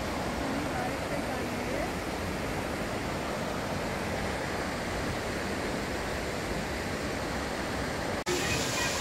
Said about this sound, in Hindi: यहाँ पे बहुत ज्यादा देर की बारिश हो रही है, हम फंस गए हैं